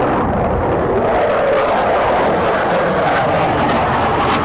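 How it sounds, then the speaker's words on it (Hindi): Jet roar of a US F-16 fighter contrasted with a small Iranian drone, heard as a loud, continuous broadband rush that holds steady throughout with no talk over it. "यह है अमेरिका का F-16 और ईरान का छोटा सा ड्रोन कैसे फाइटर जेट को परेशान करता है।"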